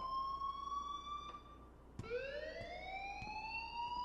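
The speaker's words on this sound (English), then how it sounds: "please turn off that alarm since that's your job" An electronic school alarm in Life is Strange wails with a steady, rising tone that jumps higher partway through, loud and constant, with a few faint clicks under it and no talking.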